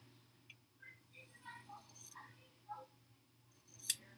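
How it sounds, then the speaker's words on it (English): Scissors snip through quilting fabric to cut a triangle for a sampler quilt block, a few soft, close cuts with light rustling, quiet and with no speech. "So I'm just going to cut another triangle from this."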